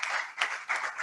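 An audience applauds in a hall with steady, close clapping that surges in a few brief waves over about a second, with no voices on top.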